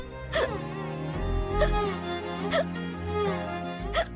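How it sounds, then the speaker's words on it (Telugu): Several sharp, high hiccups spaced about a second apart, each catching mid-breath over a steady low hum, close by. "ఎక్కిళ్ళు తగ్గేలా లేవే."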